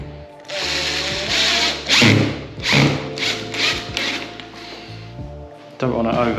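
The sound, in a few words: screws being driven in with a power drill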